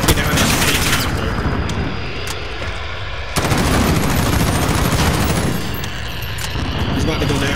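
Dense, continuous gunfire from a Modern Warfare hardpoint match, aimed at an enemy VTOL aircraft, with rapid bursts and booms layered loudly throughout amid game noise and voices.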